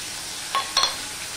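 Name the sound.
ginger sizzling as it is added to hot oil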